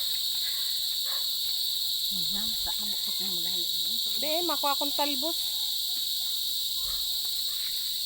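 Crickets chirp in a continuous high, steady trill at dusk outdoors, while a person speaks briefly over them.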